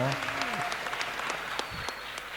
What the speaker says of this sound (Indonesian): Yo tepuk tangan to.